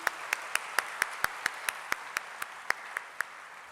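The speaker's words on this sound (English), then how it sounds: "Can we have a huge round of applause once again" Soft applause trails behind a performance at a professional session, over which one close, sharp hand clap sounds in a steady, regular beat about three times per second.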